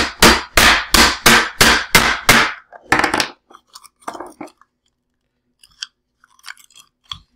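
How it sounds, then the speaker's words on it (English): A hammer strikes a plastic toy seven times in a quick, loud, even rhythm close by, followed by scattered quieter knocks and clatter. "I finally get to use the hammer."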